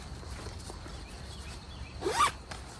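A zipper on the mesh pocket of a RATT Tactical multi-frame backpack in Multicam Arid is pulled in one quick, close rasp, rising briefly out of a quiet background.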